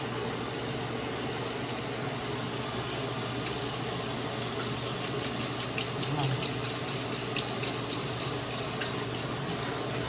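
A tap runs steadily in a bathroom sink for about ten seconds, a constant close hiss of flowing water with no breaks.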